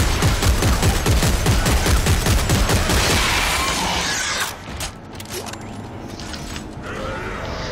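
Rapid automatic weapon fire in the video game Dead Space 3, a loud dense burst of shots for about four seconds, then mechanical creaks and scattered clanks that trail off.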